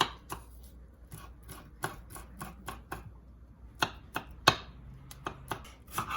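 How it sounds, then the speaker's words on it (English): A knife chops an onion into small pieces on a cutting board in a home kitchen while a vegetarian kidney bean (rajma) dish is being prepared, giving close, sharp, irregular knocks and clusters of quick strokes with brief pauses between. "chop the onion into small pieces like this"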